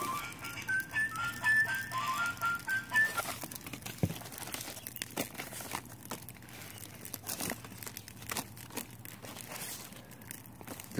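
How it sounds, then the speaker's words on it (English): Musical birthday greeting card found while dumpster diving, a thin electronic tune beeping briefly and then giving way to paper crinkling, rustling and handling noises. "Here's a birthday card that sings."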